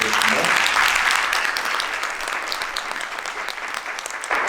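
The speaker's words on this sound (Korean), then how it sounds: "큰 박수로 환영해 주시면" An audience applauds loudly and steadily to welcome a professor onto the stage before a lecture on ideology and modern politics, with dense clapping that swells briefly near the end.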